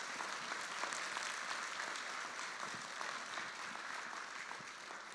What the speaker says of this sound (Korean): 한번 큰 박수 부탁드립니다.